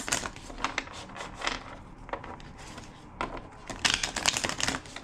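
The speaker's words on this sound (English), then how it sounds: "Two more shuffles." Tarot cards are shuffled by hand, close and quiet, in irregular bursts of crisp riffling and slapping with short pauses between them.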